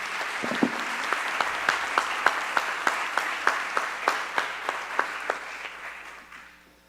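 Audience clapping at a school district tenure and retirement celebration for a retiring teacher, a moderate indoor round of applause with a few sharp individual claps, swelling and then fading out.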